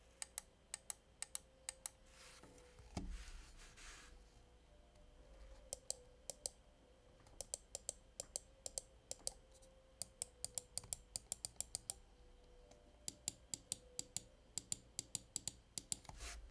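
Sharp, close clicks of a Zowie EC-1 gaming mouse come in quick irregular bursts and single taps over a quiet background, with no talking.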